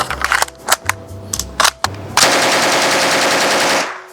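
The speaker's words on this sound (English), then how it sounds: "this thing has an extremely slow rate of fire" Argentine FMK-3 9mm submachine gun fired in full auto at a notably slow rate of fire: a few separate shots at first, then a steady rattling burst of about one and a half seconds, loud and close with no talk.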